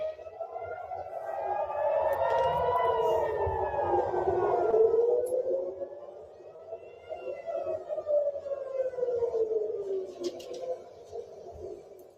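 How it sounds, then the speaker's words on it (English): Wailing air raid sirens in Tel Aviv during a missile attack rise and fall in long sweeping tones, with a second siren overlapping in the distance, steady and fairly loud with no talking. "Let's just listen in to the sirens"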